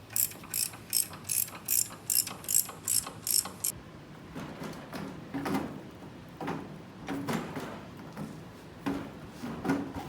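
A ratchet loosening the three bolts on a 1941 Willys Jeep steering shaft: a fast run of loud, close clicking bursts, then slower, heavier intermittent ratcheting and metal clanks.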